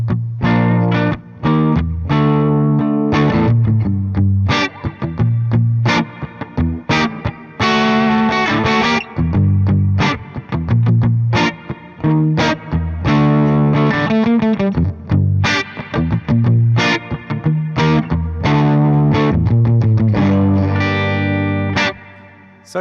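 Epiphone Power Players electric guitar played through the bridge pickup, sounding continuous strummed chords and picked notes with effects-laden tone and some reverb, loud and steady for the whole stretch with no talking.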